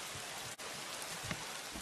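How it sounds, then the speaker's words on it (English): Video game rain hisses as a dense, even downpour, faint and continuous with a brief dropout and no other sounds. "Oh, it's raining."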